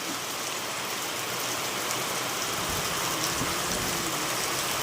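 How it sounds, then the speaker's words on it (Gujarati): Heavy monsoon rain pours down outdoors, a dense, steady roar of drops on surfaces that stays loud and unbroken, with no voices over it. "જોરદારનો આજનો વરસાદ જોઈ લો"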